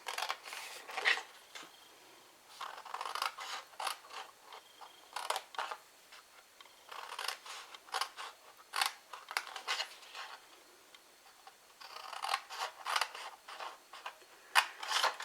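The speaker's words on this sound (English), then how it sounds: "we're actually going to cut up these bottom ones to the first score line on all of them" Bee hive box panels are cut along their score lines in a run of crisp, close snipping and slicing strokes in irregular bursts, with short pauses between, and no talking.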